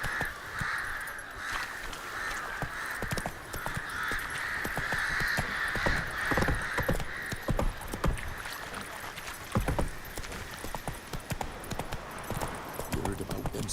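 Hooves of Roach the horse clop in a steady galloping rhythm in The Witcher 3, loud and close, with crows cawing in the background and occasional voices over it.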